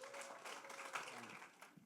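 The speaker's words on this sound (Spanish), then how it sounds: "Un aplauso a Víctor Hugo." Faint applause from a church congregation at a Saturday evening service, a soft, even patter lasting about two seconds with a voice murmuring through it.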